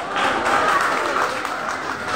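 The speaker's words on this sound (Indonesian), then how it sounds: "Tepuk tangan untuk Dasar Wisma 4." Applause for contestant Dasar Wisma 4 at a traditional Sangihe language speech competition, a brief, steady wash of clapping from a moderately distant crowd.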